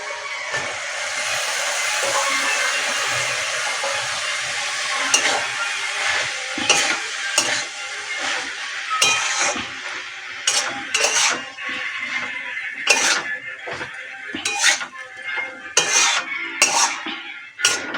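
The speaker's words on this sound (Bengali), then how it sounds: "আমি এবার আলুগুলো দিয়ে দেব আর মোচাটাও দিয়ে দেব, দিয়ে একসঙ্গে ভালো করে কষে নেব।" Potatoes and banana flower being sautéed together in a pan with spices, a constant close sizzle with the scrape and clatter of a spoon against the pan at irregular moments.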